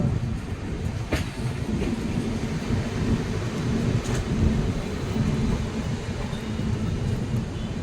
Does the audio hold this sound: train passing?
yes